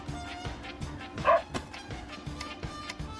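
A cartoon dog, Ein from the Cowboy Bebop anime, gives a single short bark in the middle, over soft background music.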